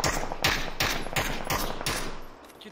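Gunfire in the battle royale game PUBG: about six sharp, evenly spaced shots ring out close and loud, each with a short echoing tail, then fade away with no talking over them.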